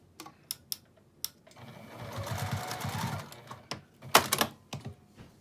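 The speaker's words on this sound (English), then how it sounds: "use a 1/4 inch seam to sew them together" Sewing machine stitching a quarter-inch seam, a continuous whirring run of about a second and a half framed by short clicks and taps before and after, close and clear with no talk.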